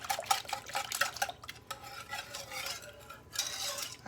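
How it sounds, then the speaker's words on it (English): Homemade German chocolate cake icing whisked in a bowl, with close, quick rhythmic scraping and clicking strokes and no voices. "I'm just whisking this to get it incorporated"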